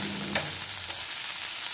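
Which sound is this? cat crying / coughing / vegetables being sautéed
vegetables being sautéed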